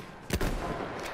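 A single rifle shot in Battlefield 1, a sudden loud crack followed by a booming decay and lingering rumble, with no talking.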